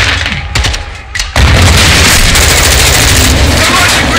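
In Call of Duty Modern Warfare 2, heavy gunfire and grenade blasts crackle, with a few sharp shots first, then a sudden loud boom that opens into a sustained roar of rapid fire and explosions.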